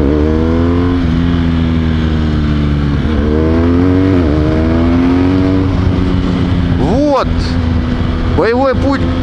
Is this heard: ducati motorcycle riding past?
yes